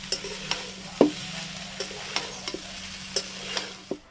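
Soya rice being stirred in a pan over very low heat: soft scraping and clacking of a spatula in irregular strokes, with a faint steady sizzle underneath, close and fairly quiet.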